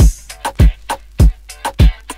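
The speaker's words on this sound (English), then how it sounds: "So basic snares for now," Sharp snare drum hits repeat in a simple, steady beat, each a punchy crack with a deep thump, with nothing else playing and no voices.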